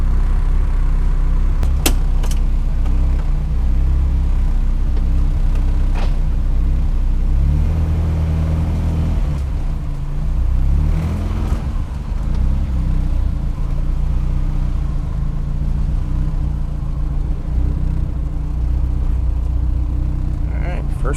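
A Ford Escort engine idles roughly with a misfire, giving a loud, close, continuous low rumble with uneven pulsing throughout.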